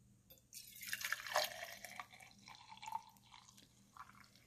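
Brewed coffee from a Walmart Mainstays 5-cup drip coffee maker pours into a travel mug, a faint, close trickle and splash with scattered drips, quiet throughout.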